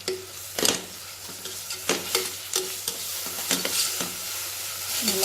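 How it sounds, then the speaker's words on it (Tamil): Ginger garlic paste ground with cinnamon, cloves and cardamom is sautéed with onions in a pan. It gives a steady soft sizzle, broken by a spoon scraping and stirring in repeated strokes, close and alone. "நல்லா வதக்கி விடுங்க பச்சை வாசம் போகிற வரைக்கும் நல்லா வதக்கி விடுங்க"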